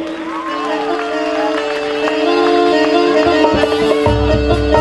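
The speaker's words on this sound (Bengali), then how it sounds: "হাততালি দিন।" Crowd applause and cheering at a Bengali musical group's stage event, rising to a fuller burst of clapping toward the end, mixed with music tones and voices.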